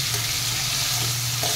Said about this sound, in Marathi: इथे मी तेलामध्ये आता ही कारली घातलेली आहे